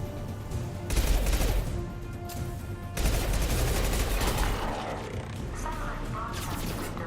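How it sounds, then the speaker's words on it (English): Heavy gunfire in a firefight in the video game Mass Effect 2, with dense bursts of shots and mechanical clatter coming in waves, fairly loud, with voices mixed in underneath. "Taking heavy fire."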